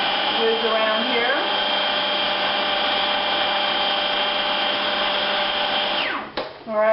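A kitchen blender whizzes hummus with tahini and sesame oil in one loud, steady high-pitched whir lasting several seconds, then winds down abruptly near the end with a brief rattle as the motor stops.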